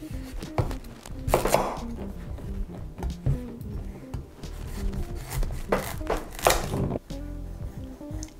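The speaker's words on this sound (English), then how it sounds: "First, we're going to chop and peel our butternut squash." A knife chopping and peeling a butternut squash on a cutting board in a home kitchen, irregular thuds and scraping strokes close up with a few louder cuts, and no talking.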